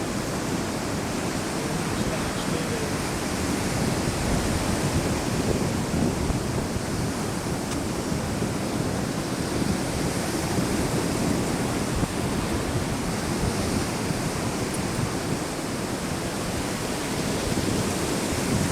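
Surf breaking on the beach at South Padre Island, a steady, loud, broadband wash of waves with wind noise and no pauses throughout.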